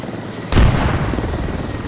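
Helicopter in the video game Squad, a loud rotor and engine roar that kicks in suddenly and holds steady and close, with no talking.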